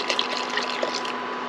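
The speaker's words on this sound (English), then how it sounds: "I'm gonna go ahead and just add in probably about a cup of vinegar" Vinegar poured from a container into a deer hair dye bath, a steady close liquid pour with light splashing and dripping, continuous and unbroken throughout.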